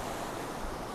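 Sea waves wash onto a pebble beach at the seaside, a broad, steady roar of surf blended with wind buffeting the microphone, continuous and close with no speech.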